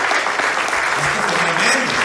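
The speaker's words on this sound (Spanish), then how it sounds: "Aquí le doy un aplauso a Jesús, hermano" Church congregation applauding during a sermon, loud continuous clapping with a voice speaking over it.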